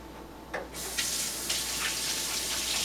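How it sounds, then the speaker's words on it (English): A kitchen tap runs as hands are rinsed under it after baking shortbread cookies. The water gushes on suddenly after a brief click and then splashes steadily and fairly quietly, with no talking. "Now I'm going to just rinse my hands quickly here."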